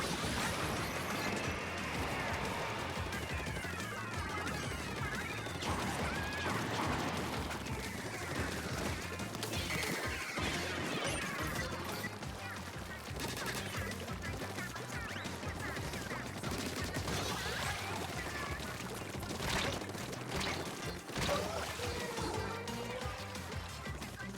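Crab Tank special weapon in Splatoon 3, a dense, continuous barrage of rapid shots and crashing impacts amid busy game effects, loud and sustained with no pauses.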